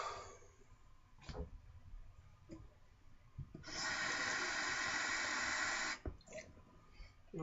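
Water runs or splashes onto an Arkansas sharpening stone while sharpening a Gold Dollar 300 straight razor, a steady broadband wash of about two seconds between brief scraping taps, close and fairly loud.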